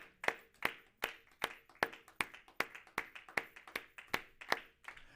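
A church congregation claps in acclaim of Jesus, steady rhythmic handclaps about three per second, sharp and fairly faint, with no voices over them.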